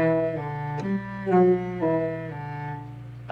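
A cello plays the opening notes of a Dotzauer exercise with deliberately poor technique, giving a few sustained bowed notes with audible scratchy transitions between them, close and moderately quiet.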